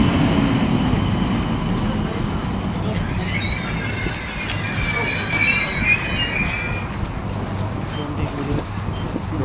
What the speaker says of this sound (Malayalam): ഞങ്ങൾക്ക് പോകേണ്ട ആദ്യത്തെ ട്രെയിൻ എത്തി